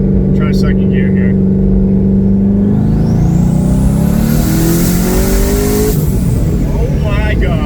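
A twin-turbo C6 Corvette Z06 on a drag pack pulls hard in second gear, its engine roaring loud and close as the pitch climbs steadily before lifting off, with a voice exclaiming over the noise.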